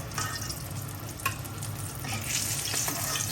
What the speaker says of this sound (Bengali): বন্ধুরা, তো আমার এই যে বেগুনগুলো ভাজা হয়ে গেছে